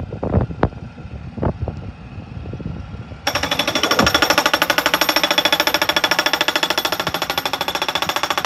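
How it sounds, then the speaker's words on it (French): A tractor-mounted hydraulic post driver pounding posts into a young peach orchard, a loud rapid hammering that starts abruptly after a few seconds of wind and outdoor noise, then continues steadily at close range. "là il y a un tracteur avec une centrale hydraulique derrière, avec l'enfonce-pieux devant"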